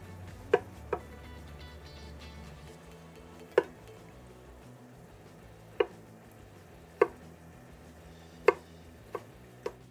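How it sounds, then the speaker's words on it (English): A knife chops raw potatoes into half-inch cubes on a board, a few sharp, irregularly spaced knocks sounding close and clear against a quiet kitchen background. "I'm just going to chop up the potatoes"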